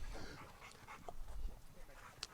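Bo, a dog on a slip lead, pants and gives soft whimpers close by, a steady breathy rhythm with a few brief higher whines, fairly quiet throughout.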